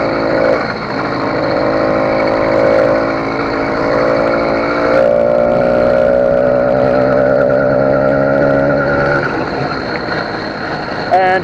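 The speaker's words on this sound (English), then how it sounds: "I can still easily start on a hill now, so I can just start up on the electric motor," A Mk5 Hybrid pulling away uphill on its electric motor with the clutch dropped, giving a loud, steady whine and drone throughout while someone talks over it.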